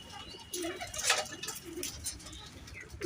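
A Giribaz pigeon at its nest with eggs gives a few low, close coos over soft rustling.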